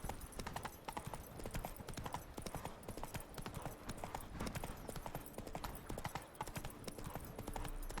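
Roach, Geralt's horse in The Witcher 3: Blood and Wine, gallops steadily with a fast, continuous clip-clop of hooves at moderate distance. The quick beat runs without pause and faint background sounds sit beneath it.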